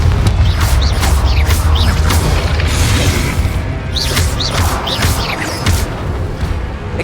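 A Confringo blasting spell explodes in a Harry Potter video game, giving a loud, dense rumble of booms and crashes that runs continuously, with bright bursts layered over the low roar.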